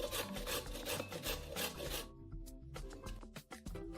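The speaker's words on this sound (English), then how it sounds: "grate the carrots finely" Carrots being finely grated, a close, steady rasping scrape in repeated strokes, loud and continuous before easing into quieter, scattered scrapes.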